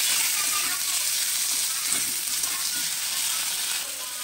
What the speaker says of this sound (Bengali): এবার দেবো কাজু বাদাম আর টমেটো